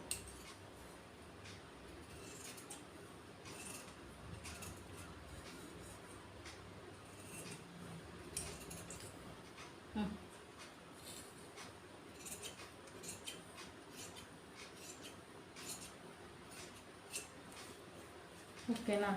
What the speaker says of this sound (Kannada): ಕ್ರಾಸ್ ಪಟ್ಟಿನ ಕಟ್ ಮಾಡ್ಕೊಬೇಕು